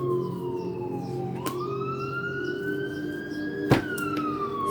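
A wailing siren sweeps slowly up and down in pitch over a steady traffic rumble, fairly distant, with a couple of brief knocks.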